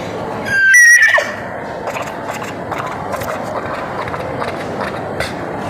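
A voice artist imitates horse hoofbeats in Malayalam film style, opening with a loud whinny-like cry and then a steady, rapid galloping patter that runs evenly to the end.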